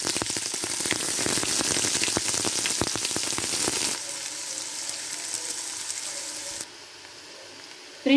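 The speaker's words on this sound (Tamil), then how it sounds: "வெங்காயம் வந்து நல்லா வதங்கிடுச்சு" Onions sautéing in a pan for a fish and okra curry, a steady close sizzle that drops to a quieter fry partway through and fades further near the end, with no talking.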